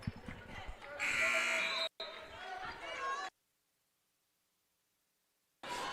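A women's college basketball game buzzer blares in one loud, sustained burst lasting about a second, set among arena noise and a commentator talking, followed by a stretch of silence.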